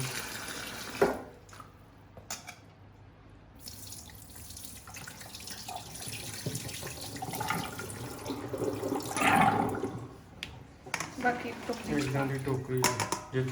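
Green chillies for pickle are rubbed and washed in water, with splashing and running water heard close by and a voice talking over part of it.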